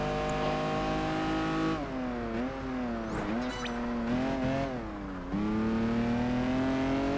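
A Lamborghini in Project Gotham Racing 4 howls at high revs, its engine pitch dipping and climbing through gear changes with a brief tire squeal, loud and up close.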